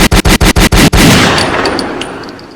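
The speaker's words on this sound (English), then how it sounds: "Hit a gunshot. I need a gunshot for that." A burst of roughly eight rapid, evenly spaced gunshot cracks, loud and close like automatic fire, then a ringing, decaying tail with faint metallic pings.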